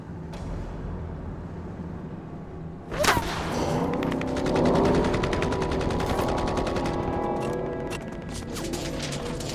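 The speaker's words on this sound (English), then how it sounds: "Suddenly, we're taking sniper fire from the shoreline. Everybody opens up." Sniper fire from a Vietnam jungle shoreline, answered by heavy gunfire: a sharp crack near the start, then dense, sustained rattling bursts of automatic weapons fire that fill the scene loudly and continuously.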